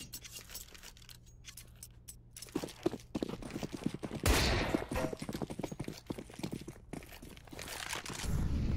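Rapid gunfire from a Counter-Strike match on the Mirage map, sharp crackling bursts and bursts of rifle and pistol fire in quick succession, fairly close and loud with footsteps and clatter between.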